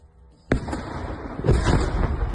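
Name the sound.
air defense missile sonic boom and explosion on a drone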